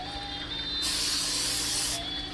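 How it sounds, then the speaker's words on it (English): A steady hiss of non-stick vegetable oil spray lasting just over a second, close and fairly loud, over a faint kitchen hum. "Non-stick vegetable oil spray."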